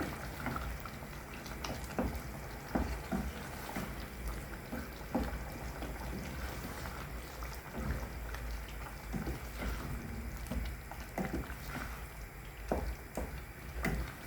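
Tomatoes frying in a pan with red pepper, spices and caraway for Tunisian kamounia with liver, giving a steady, soft crackling sizzle that runs on evenly throughout.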